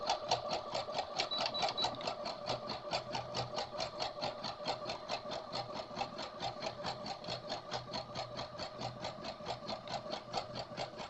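A sewing machine stitches fabric in a fast, steady mechanical rhythm of closely spaced clicks and hums that runs without a break from start to finish, close by and alone.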